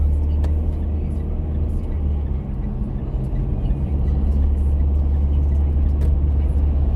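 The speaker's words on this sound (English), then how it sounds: "that's our rubbish trucks here. Our dump trucks, as we call them." Rubbish dump trucks near Melbourne Airport give off a steady, loud low engine rumble that runs throughout, with traffic noise and wind behind it.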